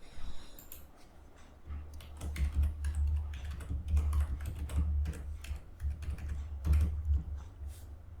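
Fingers type a password on a computer keyboard during an account sign-in, a steady run of close, crisp key clicks with uneven rhythm and a few heavier taps, over a low background hum.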